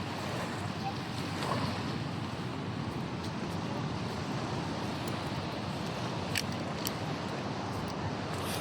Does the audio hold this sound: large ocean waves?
yes